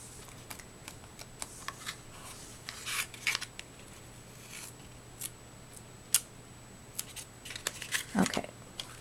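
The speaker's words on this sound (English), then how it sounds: "Just cut a little slit here, a little slit here, and it lays down." Scissors snip small slits into fabric while a sandal-shaped trinket box is being made. The quiet, close cuts come at scattered intervals with soft rustling over a steady low hum.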